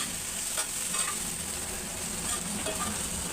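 A spoon stirs and mixes food frying in oil in a pan for a South Indian palya dish. The steady, close sizzle has scraping strokes running through it.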